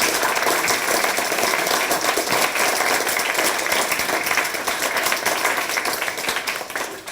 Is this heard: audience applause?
yes